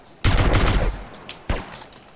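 A rapid burst of automatic gunfire in Battlefield 4, loud and punchy for about three quarters of a second, followed after a pause by a single sharp shot.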